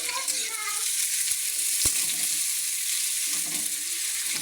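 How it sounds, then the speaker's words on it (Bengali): Chopped onion and green chilli fry together in a pan for a prawn malai curry, a steady close sizzle with a spatula knock or two while stirring, no voices. "এই দেখুন পেঁয়াজটা লাল লাল করে ভেজে নিয়েছি"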